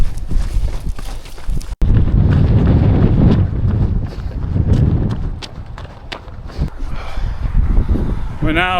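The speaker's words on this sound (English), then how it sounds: "the wind's calmed down a little bit, still strong but not as bad as when we're on the coast" Strong wind buffets the microphone on an inland stretch of the Lake District, a loud, steady roar of gusts that runs through the whole stretch with a brief dropout near the start.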